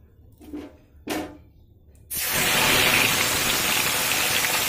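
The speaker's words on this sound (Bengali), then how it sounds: "এবার আমি মাছগুলো ভেজে নেব।" Fish dropped into hot mustard oil in a Bengali kitchen sizzle loudly. After two brief clinks, a sudden steady hiss of frying starts and continues close and unbroken, with no speech.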